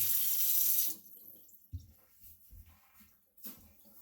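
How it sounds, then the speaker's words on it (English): Tap water runs into a sink while vine-ripe tomatoes are rinsed for meatloaf sandwiches: a steady loud stream for about a second, then quieter wet splashes and handling sounds in bursts, with no talking. "I'm just going to give these a quick wash here"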